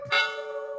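A short bright bell-like notification chime rings once, striking sharply and then sustaining a clear ringing tone as it fades within a second.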